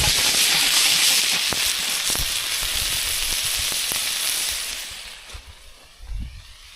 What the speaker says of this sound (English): get that flambe in